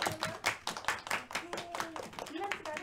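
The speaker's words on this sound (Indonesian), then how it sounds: "boleh kasih tepuk tangan." Classroom applause during a history microteaching lesson: a burst of brisk, uneven hand clapping from a group of students, fairly close and steady for a few seconds, with faint voices mixed in.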